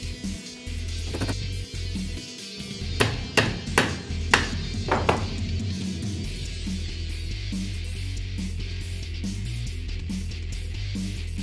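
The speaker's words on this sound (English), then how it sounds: "I relinked it with the same link pin using pliers and a hammer" A hammer strikes a link pin into a bicycle chain held with pliers, a cluster of about six sharp metallic taps in quick succession over a steady background hum.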